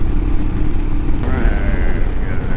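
Royal Enfield Himalayan and KLR650 motorcycles cruise a mellow, slightly rough remote road at Gold Butte, engines droning steadily and close with low rumble and road noise throughout.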